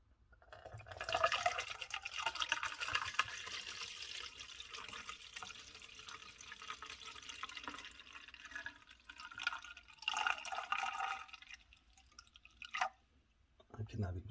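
Isopropyl alcohol, 91 percent, pours from a 32 ounce bottle in a faint, uneven liquid trickle with splashy bursts that fade and return near the end.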